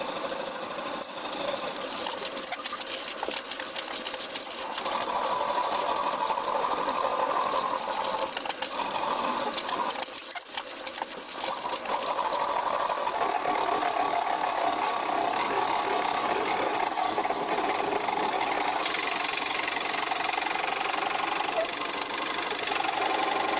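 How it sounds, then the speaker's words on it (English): A boring bar rubbing against wood as a bowl spins on a woodturning lathe, making a steady, loud, abrasive scraping whir that runs continuously under the motor hum, dipping briefly at one point. "The underside of the boring bar is rubbing the wood."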